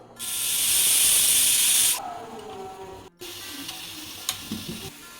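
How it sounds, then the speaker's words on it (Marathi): A pressure cooker cooking dal for veg dalcha lets out one loud, close, hissing whistle lasting about two seconds, followed by quieter kitchen noises and faint clatter. "इथे कुकरला 3 शिट्ट्या झालेल्या आहेत"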